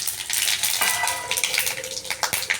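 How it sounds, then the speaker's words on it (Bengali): Dried red chillies, bay leaf, whole garam masala, green cardamom, cinnamon and cumin seeds sizzle in hot oil as a tempering for egg dal, a close, crackling fry with light stirring and utensil clinks. "এখানে আমার ফোড়নে আছে শুকনো লঙ্কা, তেজপাতা, গোটা গরম মশলা, ছোটো এলাচ আর দারচিনি আর হচ্ছে গোটা জিরে।"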